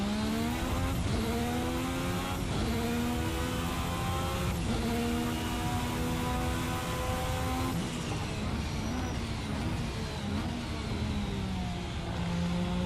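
A 1986 Formula V6 race car engine roars at full power in a racing sim, a loud, steady high-pitched whine with rising harmonic sweeps as it climbs through the gears, shifting several times over the run.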